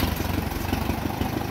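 A tractor engine, converted from magneto to an external coil and distributor ignition, idles steadily with an even, rhythmic putter, close by and alone with no talk.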